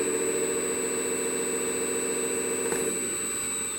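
Hydraulic pump on an RC wheel loader running at low pressure, giving a steady close whirring hum with a faint high whine, continuous and even throughout.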